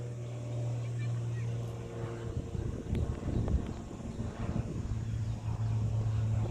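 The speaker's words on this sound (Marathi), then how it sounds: "आपल्या घराच्यावरून विमान जात आहे" A steady low engine drone of a passing aircraft, heard from a distance, with a brief burst of nearby rustling and clatter partway through.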